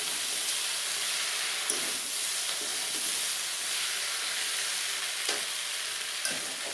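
Pui shak sautéed in a pan with fish head, pumpkin and potatoes gives a soft, steady sizzling hiss with occasional light clicks of a stirring utensil, and no talking.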